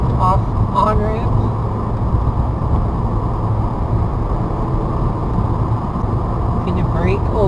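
A manual transmission car powering out of a turn onto a long off-ramp, its engine a steady, loud low drone with road and wind roar that holds constant throughout, heard from inside the car while a person talks over it.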